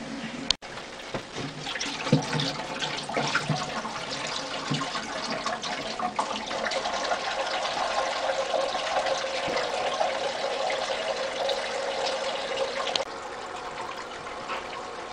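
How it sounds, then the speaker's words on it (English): Tap water rushing steadily through a sink hose to refill a 10-gallon aquarium tank, a continuous close hiss and gurgle that holds level throughout with no talk. "Turn up the water and fill it right up."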